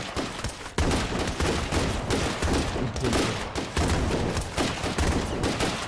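Dense, rapid gunfire from State of Decay 2 crackles almost continuously, loud bursts of shots overlapping into a sustained volley with no pause.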